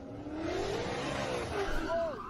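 A Ford Mustang Mach 1 revs and pulls away at a Miami cars and coffee meet, its engine note rising in pitch over about two seconds, close and fairly loud, with crowd voices murmuring underneath.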